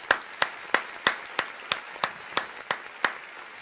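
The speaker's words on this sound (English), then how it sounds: "Clap it up for that guy." One or a few people clap slowly and evenly, about a dozen crisp separate claps at a regular beat against a quiet room on a talk show.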